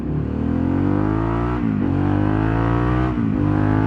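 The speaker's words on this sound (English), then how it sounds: "now you kind of get that full feel of the bike because you're hearing that exhaust" A Harley-Davidson Pan America fitted with a Vance and Hines exhaust revs hard and loud up close, a steady rising engine roar with two brief dips as it shifts, no talk over it.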